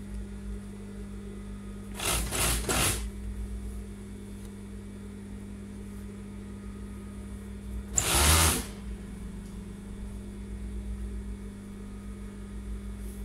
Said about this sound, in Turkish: Koltuk altı dikişini dikkat ederek dikiyorum.